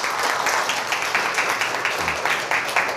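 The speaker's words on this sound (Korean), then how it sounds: "박수 한번 줘보실까요?" An audience at a corporate lecture claps together, producing a fairly loud, rhythmic patter with a steady pulse and no voices on top.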